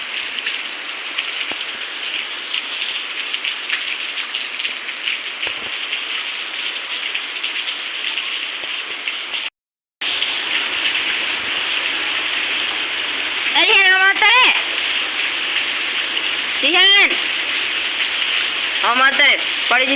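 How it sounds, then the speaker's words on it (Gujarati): Steady morning rain falls in a dense, even hiss throughout, briefly cut off midway, with a few high sliding bird-like chirps or squeaks cutting through near the end. "આજે તો સવારમાં વરસાદ આવી ગયો છે"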